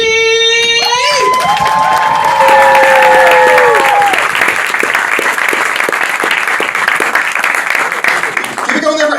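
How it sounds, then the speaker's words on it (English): Loud, sustained audience applause and cheering fill the room at a comedy night as a comedian is welcomed to the stage in Wageningen, with a few opening whoops and shouts before dense, steady clapping continues to the end. "Please welcome to the stage the big round of applause, Socrates!"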